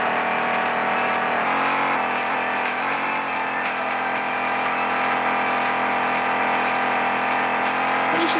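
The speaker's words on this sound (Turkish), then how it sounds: "şimdi bu araba daha hızlı gidiyor" A car engine in the Crazy Car Stunts video game drones and revs steadily as the car speeds up, loud and continuous game audio with occasional shifts in pitch.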